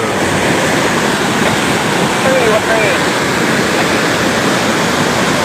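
Lahar floodwater rushes past a large embankment in Lumajang, a loud, continuous broadband roar that fills the whole clip without letup, with a voice faintly heard beneath it.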